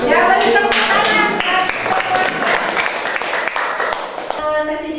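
A classroom of students claps together, a dense burst of applause that carries steadily to the end, with a voice heard briefly among it.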